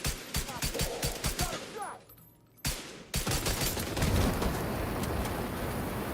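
Rapid bursts of automatic gunfire in The Division 2, a loud crackling volley that pauses briefly, then returns as dense, sustained fire.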